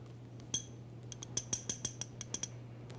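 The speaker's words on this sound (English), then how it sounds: "Put your ear in the empty glass and tap on it with the back edge of a knife." The back edge of a knife taps an empty glass: one ringing clink, then a quick uneven run of about ten bright, close clinks, each ringing briefly over a steady low hum.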